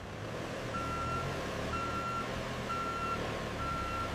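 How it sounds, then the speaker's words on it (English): Delivery truck reversing at a chocolate factory, its backup alarm sounding four evenly spaced beeps over a steady, loud engine and yard rumble, with no voices. "Trucks arrive daily to distribute chocolate across the country."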